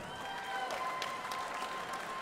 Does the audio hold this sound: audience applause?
yes